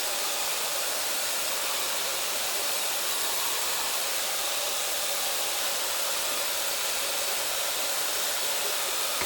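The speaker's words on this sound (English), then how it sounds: "I'm going to grab the Revel Sharper Image and start blow drying." A Sharper Image Revel hair dryer blows steadily while drying hair, a loud, constant airy roar running unbroken from start to finish, with a brief spoken remark barely surfacing over it.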